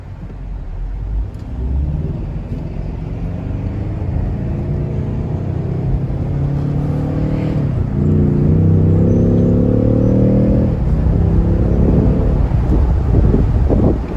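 A 2020 Ford Mustang Premium convertible with the 2.3-litre turbocharged four-cylinder accelerates hard, its engine note climbing steadily in pitch through the higher revs over heavy wind rush and road rumble, with no one speaking.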